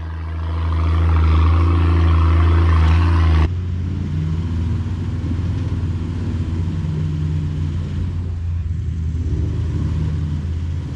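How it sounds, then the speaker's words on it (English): A Toyota Land Cruiser 105 with a turbocharged 1HZ diesel engine crawls uphill off-road, a loud low droning engine that builds for a few seconds, then drops to a steadier rumbling idle-like grind. "Brandon's 105 crawls up with his newly turboed 1XZ, showing us just how much of a difference lockers really make in a four-wheel drive"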